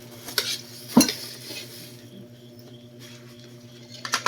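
Food being stirred and mixed in a dish, with utensils clinking against it in a few sharp scrapes and taps, the loudest near the start, then a quieter stretch of soft movement.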